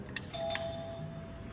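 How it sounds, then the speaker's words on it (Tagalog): A short electronic doorbell chime rings twice near the start, its bright tones fading over a steady low hum with faint room noise. "bago tayo pumasok, doorbell muna tayo"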